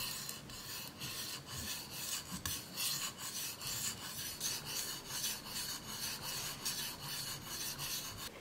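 A kitchen knife is stroked steadily back and forth across a Japanese-style whetstone, giving a continuous close, gritty rasping scrape of metal on wet stone with no voices.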